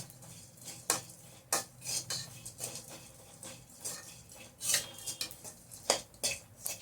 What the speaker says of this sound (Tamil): கசகசா 1 டீஸ்பூன். இது நல்லா சேர்த்து வறுத்துக்கணும்.